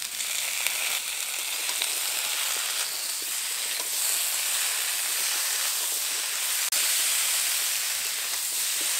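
Vegetables fry in a pan with a steady broadband hiss of hot oil and faint stirring scrapes, constant and moderately loud throughout. No one talks.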